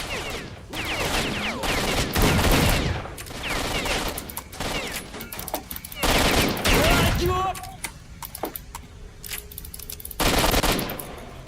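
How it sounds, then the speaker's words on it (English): Video game gunfire comes in loud, repeated bursts of rapid shots with quieter gaps between them, and a voice briefly cries out partway through. "Okay, shooting."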